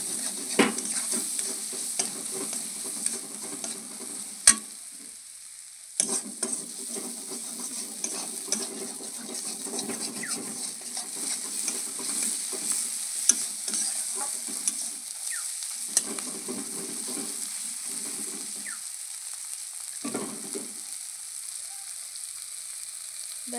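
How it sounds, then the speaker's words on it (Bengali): Spice paste with turmeric is stirred and fried in a pan, a soft sizzle under repeated scraping strokes of a spoon that pause briefly now and then, close and fairly quiet with no talking. "মশলাটা কষিয়ে নেব।"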